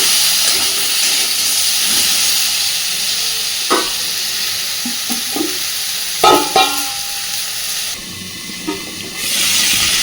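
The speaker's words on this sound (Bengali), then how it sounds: "কপি আর আলুটাকে ঢাকা দিয়ে মোটামুটি মিনিট পাঁচেক সময় নিয়ে একটু ভেজে নেব।" Cauliflower and potato fry under a lid in a covered pan, giving a steady, loud hiss broken by a few sharp clatters and taps from the lid and spatula.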